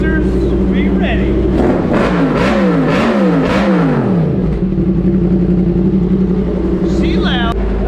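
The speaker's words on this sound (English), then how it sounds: "we are gutting that exhaust out completely. It'll basically just be a straight pipe. It's gonna be crazy loud" A Yamaha MT10 motorcycle with a gutted, straight-pipe modified Kaufman exhaust revs hard and loud, the engine note climbing and dropping in repeated quick blips before settling into a steady roaring idle.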